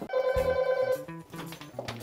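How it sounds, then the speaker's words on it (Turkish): A bell rings at the door of a home, a bright repeated electronic chime lasting about a second before lower tones and brief voices follow. "Kapı çalıyor."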